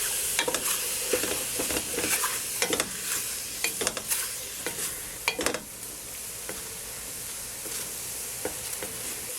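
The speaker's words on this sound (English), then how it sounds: "deglazing means that it's going to take all of this good brownness off the bottom" Mushrooms for a beef stew sizzle in a pan as it is deglazed, with steady frying hiss broken by irregular scrapes and clacks of a utensil stirring across the pan bottom, close and fairly quiet.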